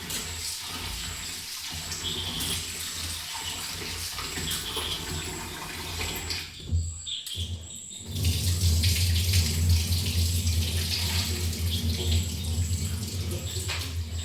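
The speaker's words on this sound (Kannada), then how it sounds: "ಆ ನೀರನ್ನು ಒಂದು ಸಲ ತೊಳೆದುಕೊಂಡ್ರೆ ಸಾಕಾಗ್ತದೆ" Soaked ingredients for a sweet dish are rinsed under a running tap. The water splashes softly at first, then gushes louder and fuller partway through, with a brief lull between.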